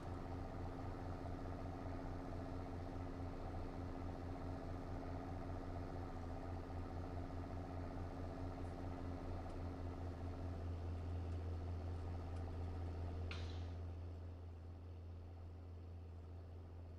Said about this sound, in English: the sound of this tractor is pretty nice